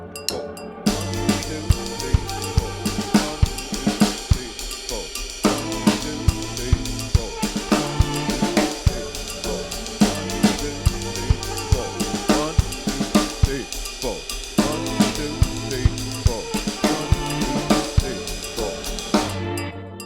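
Drum kit pattern with eighth-note hi-hat and a busy sixteenth-note independence exercise spread across the kit, heard as dense, continuous crisp hits with a strong pulse for about twenty seconds and no talking.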